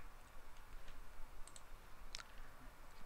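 A computer mouse clicks faintly a few times, sharp and brief, against a quiet room hum while an online course discussion board is navigated.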